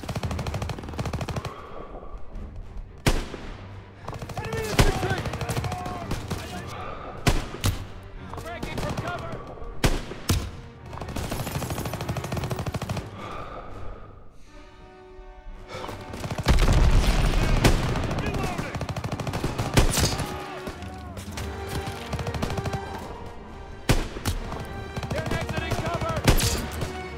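Rapid bursts of machine gun fire crackle through a Call of Duty battle, loud and close, with repeated volleys, booms and sustained gunfire while soldiers shout over the fighting.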